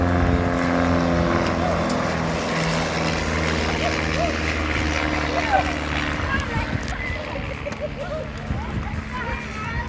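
A Pitts Special aerobatic biplane's engine drones steadily and loudly throughout, a rough propeller roar that fades slightly toward the end, with a person talking over it.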